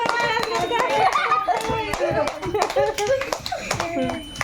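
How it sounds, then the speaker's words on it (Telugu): Hands clapping at a little girl's birthday at home, quick uneven claps mixed with excited chatter and a voice, close and lively. "కొట్టు, క్లాప్స్ కొట్టుకో, నువ్వు కొట్టు, క్లాప్స్"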